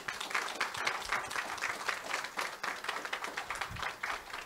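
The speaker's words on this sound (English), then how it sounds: "I heard you clapping" An audience applauds at the Jannou Credit Union reopening in Vieux Fort, with steady, dense clapping from a sizable crowd that holds at an even level for the whole span.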